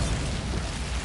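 A short, dense rumbling blast from the Bombarda spell in Hogwarts Legacy, a heavy low boom that fills the whole second without a clear onset or tail.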